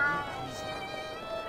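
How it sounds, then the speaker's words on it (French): A cat meows in the video game Alice: Madness Returns, a short mewing cry heard over the game's music and ambience, with a voice talking. "Ah, un chat"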